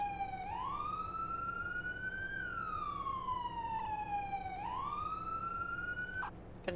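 A police car siren in a role-play video game wails in long, slow rising and falling sweeps, steady and fairly faint, cutting off abruptly near the end.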